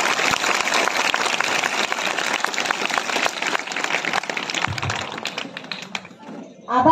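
A school audience claps for a ninth-grade student performer at a Saturday assembly, a dense burst of close applause that thins out toward the end as a voice cuts in.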